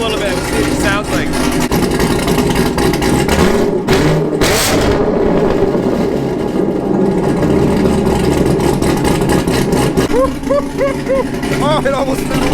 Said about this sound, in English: I'll rev it up a little bit and see what it sounds like.